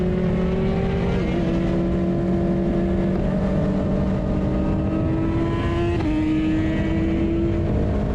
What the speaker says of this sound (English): There's someone downshifting.